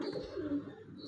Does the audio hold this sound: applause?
no